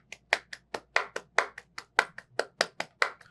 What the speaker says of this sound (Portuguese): Como palma flamenca.